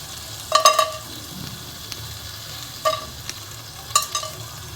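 Whole cumin, cardamom, cinnamon and cloves fry quietly in a pan for pilaf, a soft low sizzle under a few sharp metallic clinks of a stirring spoon against the pan, with no talking.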